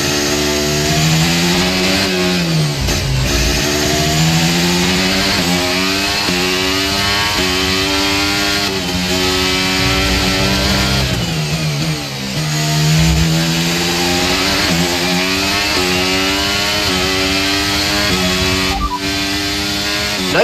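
A Formula 1 car's internal combustion engine in the F1 23 racing game, worn and losing power at Yas Marina, screams continuously at high revs, its pitch rising and dropping through repeated gear shifts, loud and unbroken with no speech.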